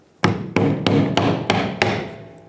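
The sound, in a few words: hammer tapping on car fuel tank cover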